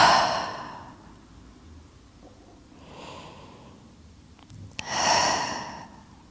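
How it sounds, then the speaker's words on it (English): Slow, deep breaths during a gentle yin yoga session: two long, soft inhale-exhale cycles with a quieter breath in between, close and calm, with no talking. "take two deep breaths here."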